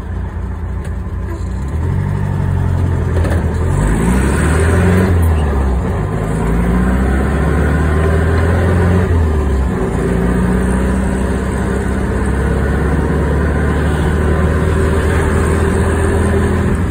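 An old air-cooled VW Beetle engine idles steadily in traffic, a loud, close, continuous low rumble with slight wavering pitch and no talking.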